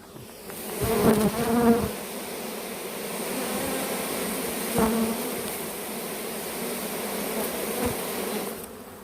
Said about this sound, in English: Did you hear that? They're getting excited in there.